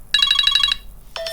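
iPhone ringtone preview playing a rapid run of bright electronic tones in a quick repeating burst, then a short pause before the tones start again, clear and close with no talk.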